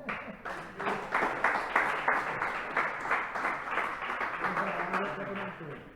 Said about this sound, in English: You can receive a big applause.